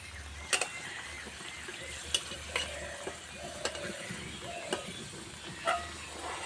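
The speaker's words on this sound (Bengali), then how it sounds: "উল্টে পাল্টে হালকা লাল লাল করে ভেজে নেব।" A homemade tiffin snack frying in a pan, flipped and stirred until lightly browned, with a soft oil sizzle and several sharp scrapes and clacks of the spatula against the pan.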